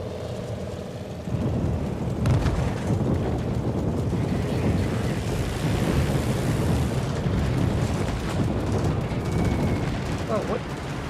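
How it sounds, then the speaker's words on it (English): Aircraft bomb run in the naval battle game World of Warships, a sudden rumbling onset of explosions swelling into a continuous roaring barrage that rolls on for several seconds, with faint background tones. "Let me see if I can get a decent bomb run off on her."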